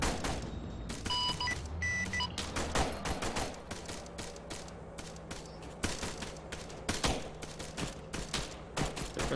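Gunfire crackles during a military field training exercise, with dense, rapid bursts and scattered single shots across an urban street and a few electronic beeps early on.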